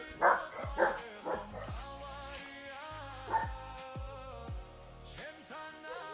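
A very large dog barks several times at close range, deep and loud barks with short gaps, trailing into quieter whimpering sounds.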